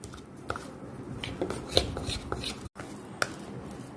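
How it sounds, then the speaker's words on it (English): A utensil stirs grated carrot in a bowl for a tricolour veg cold sandwich, giving close, soft scraping and rubbing with a few light clinks against the bowl, steady throughout with no talking. "Now I will be mixing the grated carrot part."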